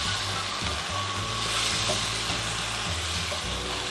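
Large chunks of tomato land in a pan of frying kaleji (liver), giving a steady, close sizzle with a low rumbling hum beneath and no voices.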